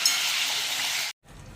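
Brinjal (eggplant) pieces frying in oil, salted and stirred: a loud, steady broadband sizzle that cuts off abruptly, then resumes more quietly after a short silence.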